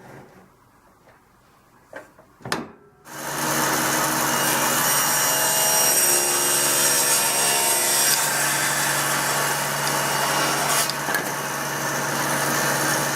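Table saw ripping walnut boards to a set fence width: a couple of short knocks, then the saw spins up into a loud, steady whine with a dense cutting roar that holds for about ten seconds without talk.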